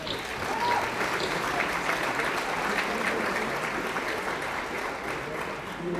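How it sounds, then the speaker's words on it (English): An audience at a school awards evening applauds a retiring coach: dense, steady clapping from many hands that holds loud and even for the whole stretch, with no voices rising above it. "we're going to take this time to give him a round of applause"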